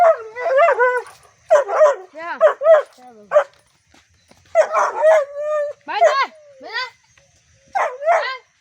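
A dog barks and yips in short, high bursts across the clip, mixed with nearby voices talking.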